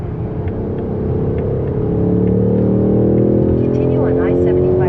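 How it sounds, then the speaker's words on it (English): A 1967 Ford Mustang driving on the road, its engine a steady low rumble that swells slightly midway, heard from inside the car with a faint rising whine over the drone. "Right now we're driving a 67 Mustang"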